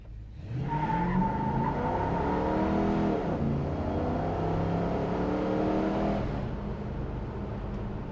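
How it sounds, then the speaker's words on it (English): A 1974 Plymouth Duster engine revs up as gas is given, a loud, steady rising drone with clear harmonics that holds for about five seconds, then eases off. "Give it a little gas here when we turn green."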